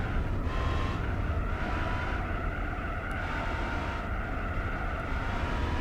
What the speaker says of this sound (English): This sounds really like a mean V8 or even a V12.